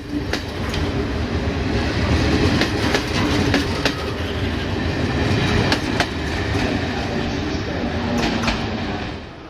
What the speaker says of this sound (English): These electric-powered train sets handle most of the commuting chores